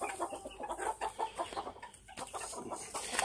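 Hens cluck and cackle in quick, irregular bursts, fairly close, with light rustling around them.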